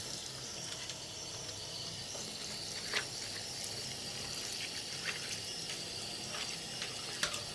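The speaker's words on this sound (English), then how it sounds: "Thoroughly rinsed now." Running water rinses a printer printhead, a faint steady trickle and splash with a few soft drips and clinks, close by and without talk.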